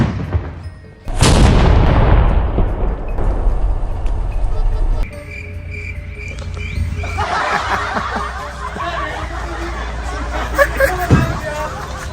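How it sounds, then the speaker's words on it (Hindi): Modified car backfiring during a Diwali prank, a sudden loud bang followed by rumbling pops and crackles from the exhaust, with laughter and excited chatter from a group of people around it. "गाइस ये गाड़ी पटाखे मारती है"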